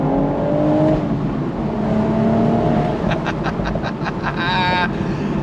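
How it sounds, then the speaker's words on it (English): A 2025 BMW Z4 M40i sports car with a 6-speed manual accelerates on throttle, its engine rising in pitch through the revs, then a quick gear change and another climb, heard from inside the cabin. "We're gonna go on throttle and see how this sports car drives."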